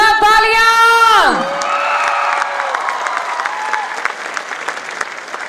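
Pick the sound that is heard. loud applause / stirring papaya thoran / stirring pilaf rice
loud applause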